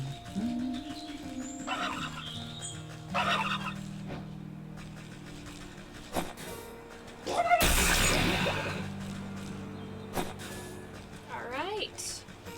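Turkeys gobble in the video game Wytchwood, several warbling calls spread across the stretch, some near and some farther off, with a voice talking over parts of it and a sudden loud burst in the middle.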